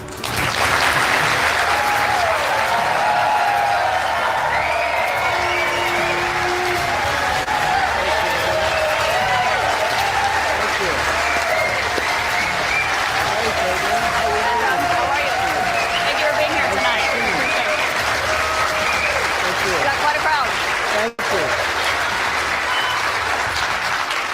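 A large audience at a Republican town hall in New Hampshire applauds and cheers, dense continuous clapping holding loud and steady for over twenty seconds, with crowd voices mixed in.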